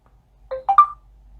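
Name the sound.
ringtone preview on LG Optimus 3D Max phone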